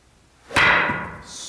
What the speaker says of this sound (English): Send the wood shavings that way with a really wide swing.